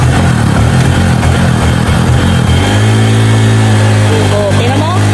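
A motorcycle engine runs loud and close, its revs rising and settling into a steady droning idle, with people talking over it.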